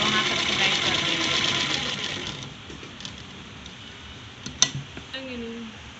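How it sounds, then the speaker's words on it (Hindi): A sewing machine stitches a kurta collar in a rapid, steady whirr for about two seconds, then stops, leaving quieter handling noises and a few sharp clicks. "देखिए इसी तरह से हम जहाँ तक निशान लगाए थे वहाँ तक सिलाई कर देंगे।"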